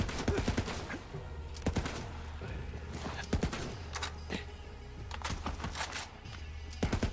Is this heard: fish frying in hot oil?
no